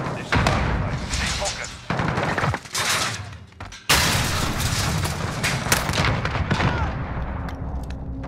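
Grenade explosion and gunfire in a video game firefight: loud, close bursts of shots and heavy thuds, broken by brief gaps, with a sharp, powerful blast near the middle followed by continued rapid firing.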